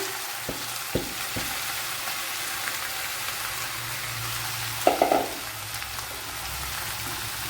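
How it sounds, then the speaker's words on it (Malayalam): Chopped okra (ladies finger) hits hot oil for an avial, giving a steady, dense sizzle throughout, with a few stirring knocks and a brief louder crackle midway. "ഓയിലിലേക്ക് ഈ നമ്മൾ കട്ട് ചെയ്ത് വെച്ച ഇത്രയും തട്ടി കൊടുക്കുക"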